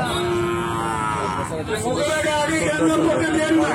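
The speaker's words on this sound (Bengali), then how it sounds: "সম্পূর্ণ বাছুর আছে, সাদা লাল সব মিলে আছে।" Sahiwal breed bull calves lowing at a Ranigonj cattle market, with long drawn-out moos close by over the hubbub of people talking in the background.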